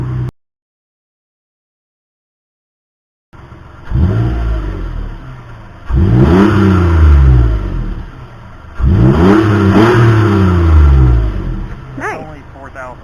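A 2013 Toyota Sienna with its muffler deleted revs hard three times in succession, each loud, raspy burst climbing and falling away close by, after a short silent gap at the start.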